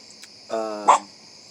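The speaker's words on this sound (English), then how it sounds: "Just a small dog, not to worry." A small dog gives a single short, sharp bark indoors in a late-night setting, followed by a quick second yelp, both close and alone with no talking.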